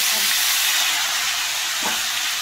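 Vegetables dropped into hot oil already seasoned with five-spice seeds, bay leaf and dried red chili, giving a loud, steady broadband sizzle and hiss throughout, with a brief clatter near the end.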